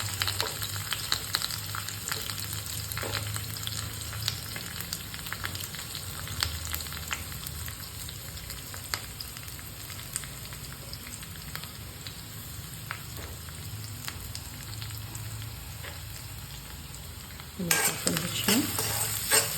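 Onion sautés in hot oil with curry leaves, giving a steady close sizzle and crackle with occasional scrapes of stirring throughout, and a brief louder clatter near the end.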